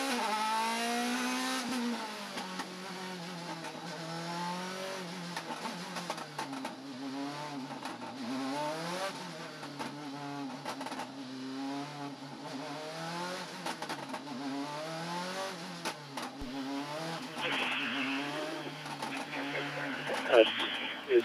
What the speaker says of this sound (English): Starting the burnouts after turn 13. We can do 8 burnouts.